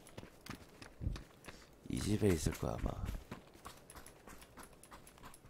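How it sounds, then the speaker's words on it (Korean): Footsteps in the PUBG Battlegrounds video game, a run of soft repeated steps under someone speaking over the game audio. "발소리."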